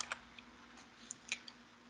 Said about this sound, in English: I'm going to do a shortcut and just type in users